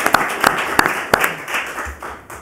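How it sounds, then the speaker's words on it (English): Audience members at a city council meeting applaud for Roger Hall. The claps are sparse and uneven, a few sharp bursts spread across a couple of seconds before fading into room noise. "it'd be very appropriate for all of us to clap for Roger Hall"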